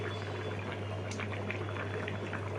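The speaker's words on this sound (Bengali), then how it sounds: "এবার ঘি যাচ্ছে শুক্তোয়" Ghee goes into shukto, a Bengali mixed-vegetable dish simmering in a pan, giving a quiet, steady bubbling and light sizzle over a low constant hum, with no talking.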